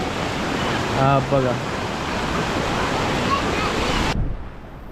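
Heavy monsoon rain and flowing water fill a Konkan village with a steady, loud, broadband roar that runs throughout, then cuts off abruptly near the end. Someone speaks briefly over it.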